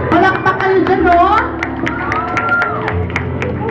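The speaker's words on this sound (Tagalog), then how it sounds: "Palakpak kayo dyan, no?" Applause and cheering from a crowd at a live mall show at Starmall Edsa, loud and sustained, mixed with shouts and a voice speaking over it and music in the background.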